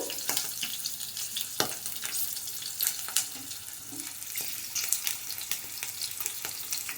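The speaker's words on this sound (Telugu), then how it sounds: "ఆయిల్ వేడెక్కాక ముందుగా పచ్చిమిర్చి ధనియాలు" Green chillies and coriander seeds spluttering in hot oil for a bottle gourd peel chutney, a faint, steady crackle with scattered sharp pops and ticks, close by with no voices.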